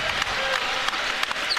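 A basketball arena crowd at a Kansas vs Iowa State NCAA men's game cheers and applauds while a player holds the ball out high to run down the clock. The roar is dense, continuous and close, with scattered claps.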